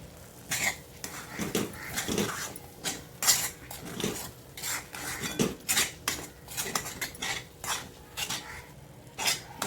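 A spoon stirs milk and green-pea halwa in a steel kadhai, giving close, irregular metallic scrapes and clinks over a quiet simmer, with no voices.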